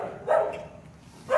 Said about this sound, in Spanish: Los perros ladran.